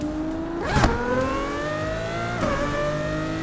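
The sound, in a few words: car engine revving through an upshift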